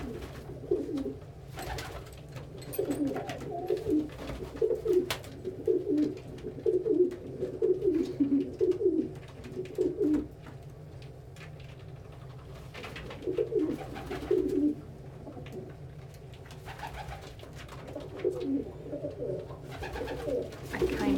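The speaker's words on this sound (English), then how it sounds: "Just letting y'all watch birds do what birds do." Pigeons or doves cooing nearby in repeated throaty bursts, several rolling calls in clusters separated by quieter pauses, with faint background rustle and no talking.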